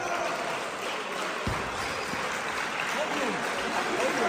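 Crowd applause for Mikołaj, the third-place dunker at an outdoor 3x3 basketball dunk contest in Nowa Sól, a steady distant wash of clapping with voices mixed in.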